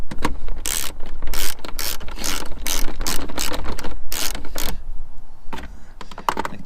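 A ratchet tool drives the screws back into a Honda CR-V or Civic air filter housing, giving close, loud bursts of rapid mechanical clicking that pause briefly before a few final clicks.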